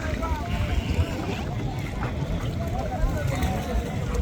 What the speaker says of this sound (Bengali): এই যে দেখুন নৌকা